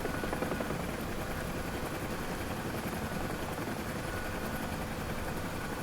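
UH-1H Huey helicopter in the DCS flight simulator, a continuous rotor and turbine drone with steady rhythmic blade chop, even and unbroken from start to finish, with no voices.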